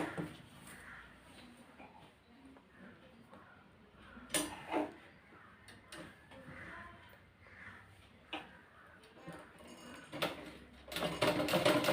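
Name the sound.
sewing machine stitching blouse fabric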